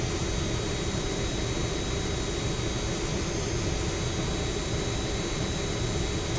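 Steady broadband roar of Rotate MD-80 jet engines in a flight simulator, heard as continuous cabin-level engine drone with no talk.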